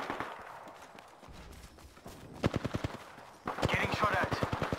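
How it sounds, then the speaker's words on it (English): Rapid automatic gunfire in the Apex Legends battle royale, starting as distant bursts and then becoming a loud, close stream of regular shots near the end, with a crackle of impacts behind it. "Getting shot at."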